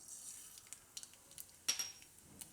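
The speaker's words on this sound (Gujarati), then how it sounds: "આમાં આપણે રાઈ નાખીશું થોડીક વઘારમાં" Mustard seeds crackle and pop in hot oil, scattered sharp snaps over a steady low hiss, with one louder burst partway through.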